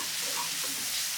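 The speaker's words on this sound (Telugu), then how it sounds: "ఇది కూడా పచ్చివాసన పోయేంత వరకు వేయించుకోవాలి." Kasuri methi, mint and turmeric fry in a pan for a lemon korameenu fish curry, giving a brief steady sizzle with soft stirring and no talk.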